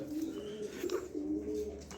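Pigeons coo in low, soft repeated calls, close by but fairly quiet, with light background noise from a pigeon sale.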